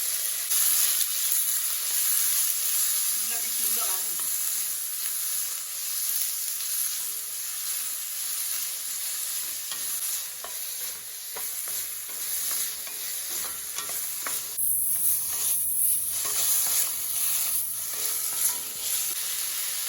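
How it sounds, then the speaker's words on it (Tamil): Onions, green chilies and tomatoes sauté in a pan while being stirred for a Tamil kadalai paruppu kuruma, giving a steady close sizzle and frying hiss with scraping stir noises throughout and no talk. "எல்லாத்தையும் போட்டு அப்படி வதக்கி விட்டுருக்கேன்"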